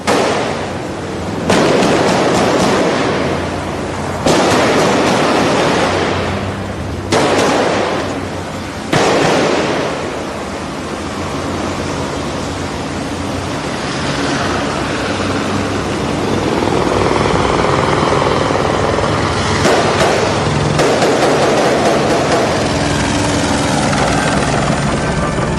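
Gunfire exchanged between police and gunmen in a Rio de Janeiro favela on an ordinary morning: several loud, sharp cracks and bursts, some spaced seconds apart and a cluster later on, over a constant heavy helicopter rotor drone.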